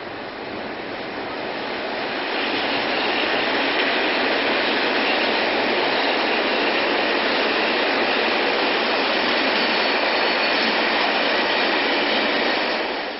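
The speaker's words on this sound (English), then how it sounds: "The potash trains from Bulby all run to Tees Dock" A freight train carrying potash from Boulby to Tees Dock rolls past. Its rumble builds over the first seconds, then holds as a steady, broad roar with faint wheel clatter before dropping off at the very end.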